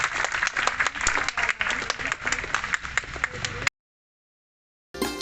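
An audience at a Marathi devotional and light-song concert claps loudly and steadily for a performer for several seconds, then the sound cuts to silence before a brief burst returns at the end.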